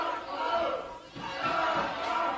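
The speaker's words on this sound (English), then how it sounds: "Listen to the crowd." Wrestling arena crowd in Ohio cheering and roaring for Brock Lesnar, a dense sustained wall of voices with a brief dip and then a swell.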